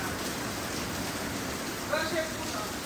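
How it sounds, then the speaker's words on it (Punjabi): Heavy rain pours down in a village during floods, a steady dense hiss of drops on surfaces throughout, with a brief faint voice partway through. "ਕਿੰਨੀ ਕੁ ਬਰਸਾਤ ਆ ਰਹੀ ਆ"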